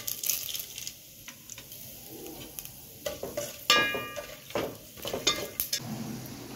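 Whole spices, bay leaf and cinnamon among them, crackle in hot mustard oil in a pan, with soft sizzling, stirring scrapes and occasional utensil clinks, all close and fairly quiet.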